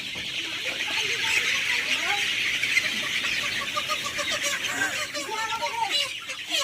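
Chickens cluck and squawk in a busy, continuous chorus close by, with scattered calls overlapping a steady bright background din.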